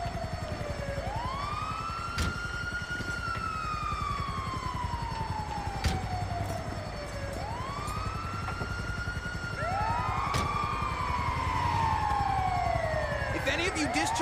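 An ambulance siren in GTA V wails, rising and falling in long repeated sweeps, loud and steady, with scattered clicks and faint background noise.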